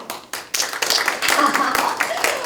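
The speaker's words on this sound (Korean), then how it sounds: "박수는 크게, 그렇죠?" Audience applause in a hall at a Saemaul Undong community association lecture in Gongju, South Korea, heard as dense clapping that swells after a brief start and carries on steadily, fairly close, with speech mixed in.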